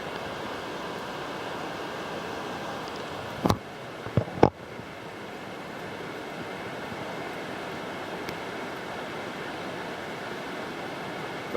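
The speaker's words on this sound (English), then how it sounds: "Hope it's coming through the camera how much they're roaring." Belmore Falls waterfall at Robertson in the Southern Highlands, a steady broadband roar of falling water heard from a lookout, unbroken throughout apart from a few sharp handling knocks in the middle.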